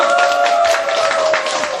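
Applause from a church teachers' seminar audience welcoming the senior pastor: a steady, fairly thin patter of clapping with a sustained tone running underneath, holding evenly throughout.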